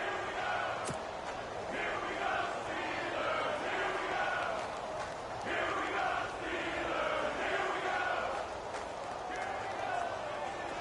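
A stadium crowd roars in a PS4 American football game, a dense, continuous wash of cheering that swells and dips through a big third-down moment, with commentary voices running underneath.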